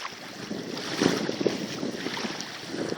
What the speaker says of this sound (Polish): Samotna motorówka.